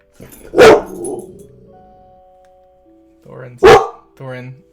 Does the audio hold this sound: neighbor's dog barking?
yes